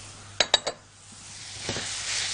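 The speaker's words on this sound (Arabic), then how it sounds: "تعالوا نحط بقى الفراخ المفرومة علشان تتعصج." Minced chicken with onion and spices in a pan, a soft, steady sizzle that builds gradually, opened by three sharp metallic clinks of a utensil against the pan.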